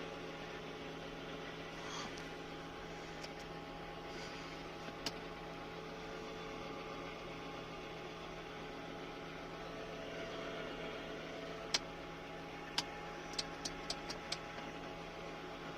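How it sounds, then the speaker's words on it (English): A 1992 Lexus LS400 engine idling steadily at operating temperature, a smooth low hum recorded at a distance, quiet, with a few faint ticks near the end and no talking. "after about 10 minutes of running, the LS400 seems to be at temperature."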